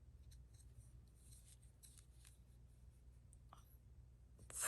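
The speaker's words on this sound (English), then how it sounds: "my yarn needle and a pair of scissors" Faint, quiet snips and rustles of scissors being handled as a blue crochet beanie is finished, a few soft clicks scattered over low room hum, with a louder rustle at the end.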